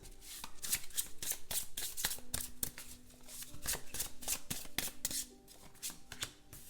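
Tarot cards shuffled by hand in a steady run of crisp, riffling flutters and soft slaps, close and fairly quiet, with no talking.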